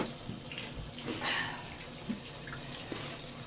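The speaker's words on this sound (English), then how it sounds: "Let your water run. It's okay, it's not going to run out." Tap water runs steadily into a tub or sink while a dog is bathed, a soft continuous splash with a few faint drips and knocks, moderately close and with no talk.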